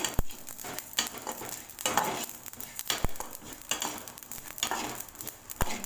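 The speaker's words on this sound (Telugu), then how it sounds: "వేగిపోయినాయండి ఇంకా" Cumin and fenugreek seeds frying in a pan for homemade red chilli pickle, a soft crackling sizzle with repeated scraping stirs and a few sharp utensil taps against the pan, no voices.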